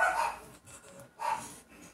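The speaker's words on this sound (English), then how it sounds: "Sorry, my dogs are barking." Dogs barking indoors in the background, two short bursts of barks about a second apart, moderately faint and distant.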